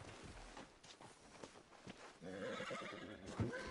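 Horse in the video game Red Dead Redemption 2 letting out a faint whinny near the end, following soft hoof clops and outdoor shuffling.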